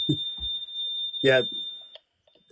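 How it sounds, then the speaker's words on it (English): A steady, high electronic alarm tone sounds continuously behind someone talking during a podcast, sitting faintly under the speech before cutting off. "that's my alarm."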